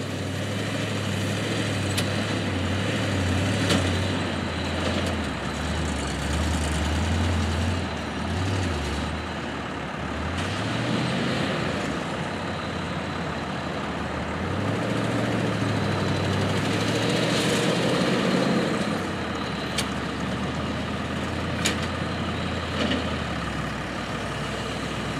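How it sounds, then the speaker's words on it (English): A bale-collecting machine works a hay field, gathering bales into a large block, its heavy engine droning steadily and close throughout with slight shifts in pitch. "It cruises along in the field, collecting each bale and putting them into a big block"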